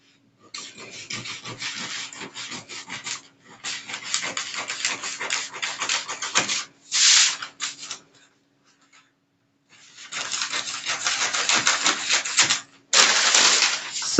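Scissors cut through fabric for a corset bustier, making long stretches of close, raspy crunching strokes broken by short pauses and a brief silence partway through.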